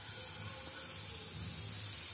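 Banana pancake batter poured into a hot, oiled pan gives a steady, soft sizzling hiss that holds at an even level throughout, close by and heard alone.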